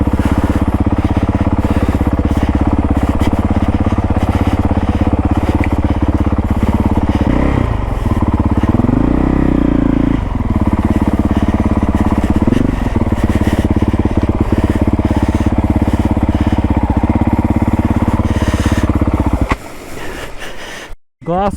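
Dirt motorcycle on a rough, hardcore fire trail off Hawthorn Road, its engine droning steadily up close, rising and falling with revs and clatter as it crosses, before cutting out near the end.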